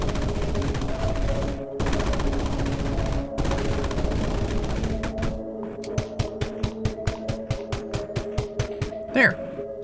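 A mining gun in Sandustry fires at rock, first as dense sustained blasting and then as a fast train of sharp, evenly spaced shots, with a steady tonal music bed running underneath.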